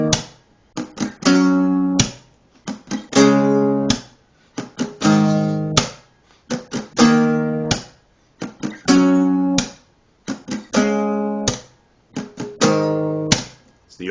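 Electric guitar riff built on barre chords, choppy strummed chord stabs separated by muted percussive scratches in a repeating rhythm, played solo and fairly loud.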